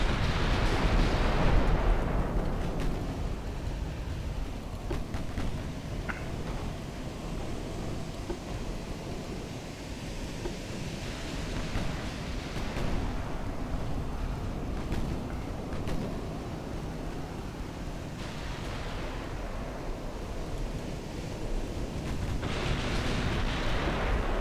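Naval main and secondary guns boom in the Ultimate Admiral Dreadnoughts game, a continuous heavy rumble of distant salvos and sea wash with periodic louder blasts rising over the roar.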